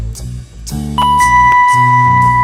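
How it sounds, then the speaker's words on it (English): Bell tones played on an RC600 looping pedal, struck as several ringing notes in a layered loop that sustains loudly with no voices. "Can try some bells."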